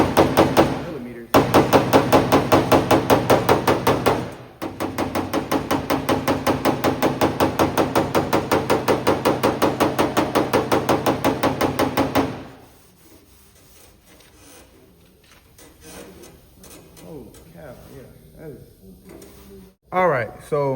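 Rapid, loud hammer blows knock dents down on the bare metal body panel of a 1984 C10 truck, a fast steady run that stops, followed by quieter handling noises and brief voices.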